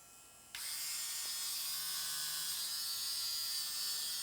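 A Conair Man lithium-powered ear and nose hair trimmer switches on abruptly and runs with a steady, bright, high-pitched electric buzz, close and continuous with no talk.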